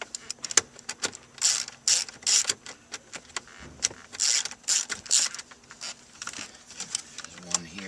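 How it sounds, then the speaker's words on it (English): Socket ratchet with a 10mm socket loosening the stereo bolts in a Toyota Corolla dash, making rapid clicking bursts in several close runs, with faint background noise between strokes. "We're going to need a 10mm socket to remove the stereo."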